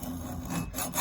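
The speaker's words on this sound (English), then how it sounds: "We're going to cut this off. Got a nice sharp bimetal hacksaw." A sharp bimetal hacksaw cuts an AR-15 barrel in steady, close rasping strokes, with rough back-and-forth scraping of metal throughout the short moment.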